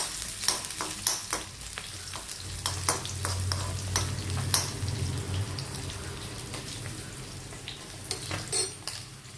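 Small onions and dried red chillies frying in a pan, with a steady oil sizzle throughout and a series of sharp spatula scrapes and clinks as they are stirred, fairly close, with no voices.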